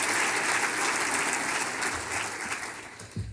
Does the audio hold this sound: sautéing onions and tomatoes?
no